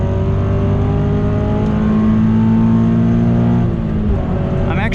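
Subaru BRZ on a race track, heard from the cabin: a loud, continuous engine drone whose pitch climbs steadily under load, with no break in the sound.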